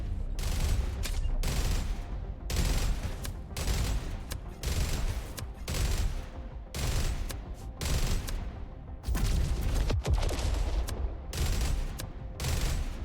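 Gunfire in the video game Jump Ship comes as loud bursts of rapid shots, roughly a dozen of them with short gaps between, dense and close throughout.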